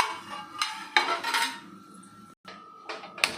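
Metal pan clanks and scrapes on a home stove, several sharp clattering knocks spaced unevenly with brief rattling between, close and fairly loud with no talk.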